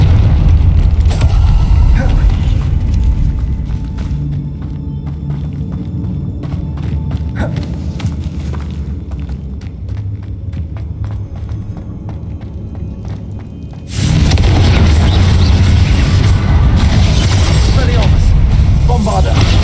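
Booming fire-spell blasts from Hogwarts Legacy rumble heavily and continuously, with a dense crashing burst near the end; a voice speaks over the explosions.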